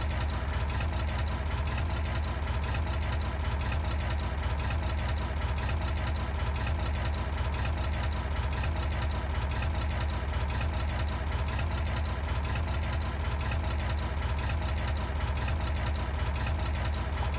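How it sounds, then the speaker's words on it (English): A tractor engine idles in the farming video game Farming Simulator 22, a steady, continuous low drone with a faint rhythmic knock that holds unchanged throughout without any talk. "So it's been a fantastic little tractor."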